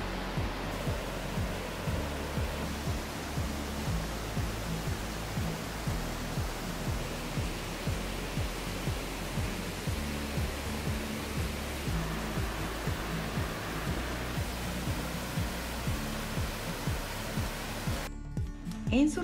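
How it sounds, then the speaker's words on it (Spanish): Water from fountains and cascades in Uruapan's national park in Michoacán pours as a steady, even rush, continuous and moderately loud throughout, with no talk heard. "con esas aguas se crean una espectacular belleza de fuentes y cascadas"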